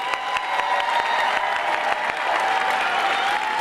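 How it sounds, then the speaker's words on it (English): A large audience at a summit closing celebration claps for a translator, a dense, continuous round of applause with a faint tonal hum underneath. "Let's give Cisco a round of a hand clap for his excellent translation."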